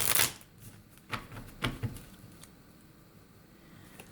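A deck of tarot cards is shuffled close by, with a burst of riffling followed by a few softer, scattered card flicks and light patter, no voices.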